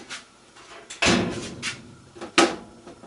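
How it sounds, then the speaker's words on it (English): A Whirlpool washing machine door is pushed shut with a soft thud, followed by a few lighter knocks and a second solid clunk, close by in a quiet room. "Close the door."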